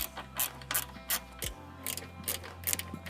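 A hand ratchet backs screws out of a Scion tC side skirt, making rapid, close clicking bursts in quick repeated strokes over a low steady hum, with no talking.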